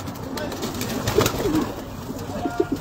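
Racing pigeon of Belgian import cooing in a loft, soft low coos rising a few times over a murmur of background noise and faint voices.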